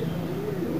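Low, continuous cooing of pigeons, a soft throaty murmur that runs steadily throughout at moderate loudness.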